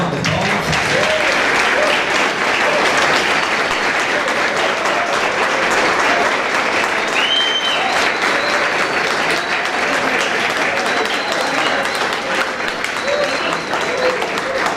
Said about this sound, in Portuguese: Passar uma palmas.